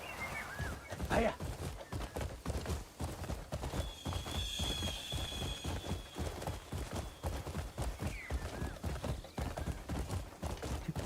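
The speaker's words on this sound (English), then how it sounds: "Why am I riding this horse all the way back to a stable?" A horse is ridden in the video game Crimson Desert, its hooves clip-clopping in a steady close rhythm, with a brief whinny early on and a voice speaking over the gait.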